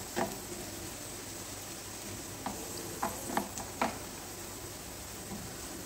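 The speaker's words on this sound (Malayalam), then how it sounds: "അപ്പോൾ നമുക്ക് നമ്മുടെ ഈ തക്കാളിയും സവാളയും നന്നായിട്ടൊന്ന് വഴറ്റി കൊടുക്കാം." Tomato and onion sautéing in a pan, a quiet steady sizzle with a few soft stirring clicks and scrapes, no talking.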